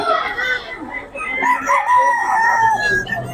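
A rooster crows in a long drawn-out call while chickens cluck around it, fairly close and loud, with barnyard chatter throughout.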